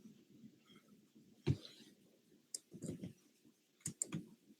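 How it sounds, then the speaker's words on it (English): Irregular clicks and taps from a computer keyboard, with a few sharper key strikes between softer muffled ones. They come close and sparse, with no voices. "Maybe I got to type it in."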